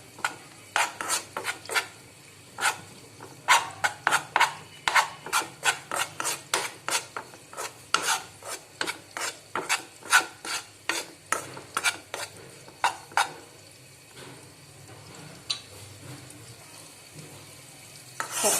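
All-purpose flour being stirred as it fries in a pan for white sauce pasta, a steady run of rhythmic scraping strokes over a soft sizzle, close and alone with no voices.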